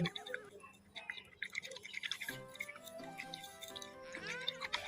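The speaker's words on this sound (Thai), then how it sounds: "เขย่าให้เข้ากันเลย" A closed bottle holding water, sand and oil is shaken, giving close, wet sloshing and gurgling with bubbly drips in uneven surges.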